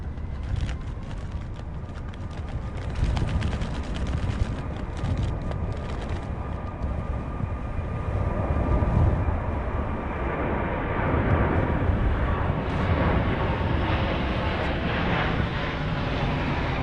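An airliner aborts its landing and goes around in a severe storm with 90 mph winds and wind shear, its engines roaring steadily and loudly for the whole stretch beneath heavy wind rumble.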